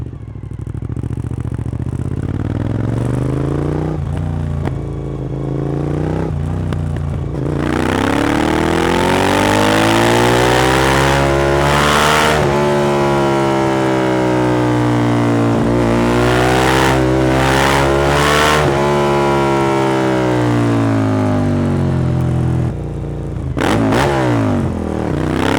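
A loud 2003 Suzuki SV 1000 S motorcycle engine revs hard through rising gears, pitch climbing and dropping with each shift, close and sustained before easing off.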